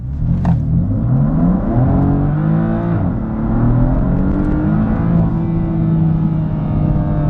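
A 2017 BMW M3 with a dual-clutch transmission launches from a standstill in Sport mode, engine note climbing loudly with rapid gear changes heard as pitch drops and restarts, close and dominant with no talk.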